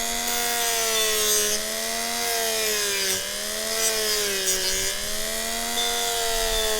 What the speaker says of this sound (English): I'm just putting barely any weight on the sanding pad.